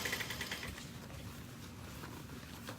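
A sewing machine stitches a half-inch seam with a backstitch on a bag, a soft, quiet mechanical whir with a faint rapid clatter, continuous throughout.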